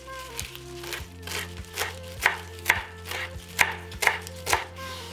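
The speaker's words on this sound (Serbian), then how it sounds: "I iseći ću jednu manju vezu svežeg peršuna." A knife chops a small bunch of fresh parsley on a board, about a dozen crisp, evenly spaced close thuds in a quick steady rhythm, with no talking.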